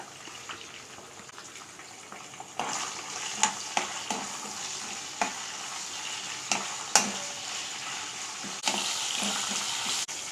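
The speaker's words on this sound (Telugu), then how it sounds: "సన్నగా తుంచుకున్నటువంటి పచ్చిమిరపకాయలను వేసుకోవాలి ఇందులోనే కొంచెం సాల్ట్ ఇందులోనే వెల్లుల్లిపాయలు వేసుకోవాలి అలాగే జీలకర్ర" Green chillies, salt, garlic and cumin frying in oil for a cough leaf chutney, a continuous sizzle that swells partway through, with sharp utensil taps and scrapes spaced irregularly, close up with no voices.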